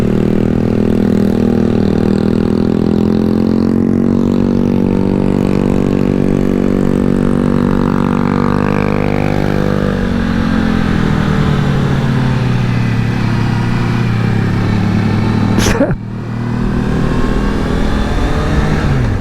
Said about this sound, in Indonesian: Kencang amat tuh motor jalannya.